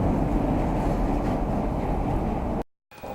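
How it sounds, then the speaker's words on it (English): A subway train pulls into a Chicago station with a loud, continuous rumbling roar that cuts off abruptly near the end. "this is the train arriving on the subway"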